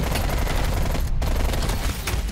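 A QBZ-83 rifle fires in the video game Black Ops Cold War, a loud, rapid continuous burst of automatic gunfire with a brief gap partway through.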